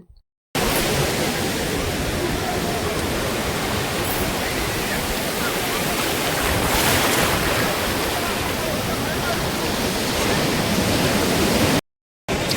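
Steady, loud roar of sea waves on Puri beach, a continuous wash of surf with no breaks and no talk.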